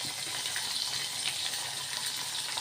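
Onions, curry leaves, green chillies and dried red chillies frying in oil in a pan, a steady close hiss of sizzling that holds even throughout without talking.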